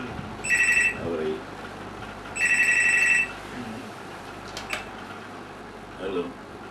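Telephone ringing in two repeated bursts of electronic trills, fairly loud, with a quiet room and faint movement between rings and a brief murmur near the end.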